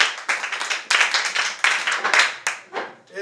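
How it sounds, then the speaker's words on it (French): Classroom students clap for a girl who answered, a brisk close burst of rhythmic hand claps that tapers off near the end, with a voice starting as it fades. "En 2002, applaudissez pour elle."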